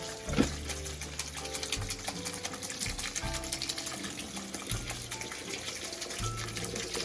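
Canned beans being rinsed under a running kitchen tap, a steady splashing water flow with shifting low tones as the can is handled, moderately loud and without talk.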